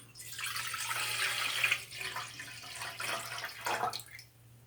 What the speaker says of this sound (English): We're now adding water to the pot.